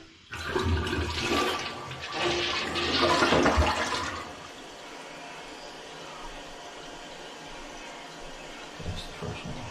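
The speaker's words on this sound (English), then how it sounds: "First flush got the water up here where it belongs. Now it's doing its refill here." A newly installed toilet flushes with a loud rushing surge for about four seconds, then its tank refills with a quieter steady hiss of running water.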